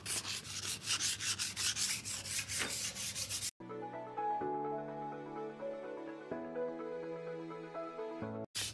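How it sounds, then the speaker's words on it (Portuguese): Sandpaper rubbed by hand on tile adhesive grout at the edge of a porcelain-tile washbasin, rapid rhythmic scratchy strokes close by, followed by a sustained tonal hum with stepped pitch changes. "A lixa só pode passar na massa."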